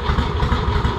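A Harley-Davidson Ironhead Sportster motorcycle engine idles steadily on private property, a loud, close, lumpy low rumble with an even rhythmic pulse throughout and no talking.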